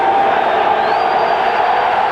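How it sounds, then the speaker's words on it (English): Oakland Raiders fans roaring in the stadium at the 1995 home opener against San Diego, a sustained loud crowd din with a rising whistle-like tone, commentator talking over it. "Oakland Raider fans have waited more than 13 years to cheer like this."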